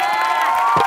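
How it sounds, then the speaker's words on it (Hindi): A studio audience at a televised Hindi comedy show breaks into loud, continuous applause mixed with cheering and whoops, a dense, close wash of sound filling the whole moment. "जोरदार तालियां हो जाए गोविंद अंकल के लिए।"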